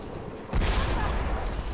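A thunderclap cracks across a storm in Tomb Raider, a sudden loud boom that rumbles on and slowly fades.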